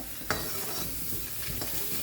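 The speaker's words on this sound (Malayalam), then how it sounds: "ഇനി മീഡിയം ഫ്ലെയിമിൽ വെച്ചതൊന്ന് നമുക്ക് വറുത്തെടുക്കാം." Steady dry scraping and stirring of fenugreek seeds and spices dry-roasting in a pan over medium flame, a soft sizzle underneath, two sharper clicks of a utensil against metal, no voices.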